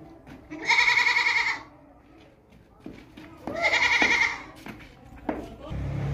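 Two loud, close goat bleats, each lasting about a second, from a healthy long-eared desi goat, separated by quieter shuffling and handling noise, with a short thud near the end.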